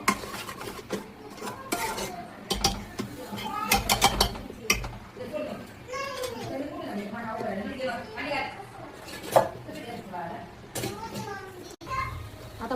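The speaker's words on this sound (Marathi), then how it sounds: "आपण याला हलवत राहूया, पुन्हा खालीवर करत राहूया." Chicken curry masala stirred in a pan, a spoon scraping and clinking against metal in irregular bursts while someone talks throughout and children's voices sound in the background.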